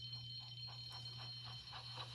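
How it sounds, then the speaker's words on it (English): An electronic alarm rings in steady, high-pitched tones that pulse in a quick rhythm, with a low hum running beneath it throughout. "Soon came the alarm."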